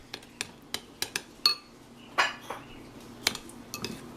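Stuffed mushroom filling of breadcrumbs, egg and mushroom pieces mixed in a bowl, a spoon clinking against the side in a steady series of close, sharp knocks.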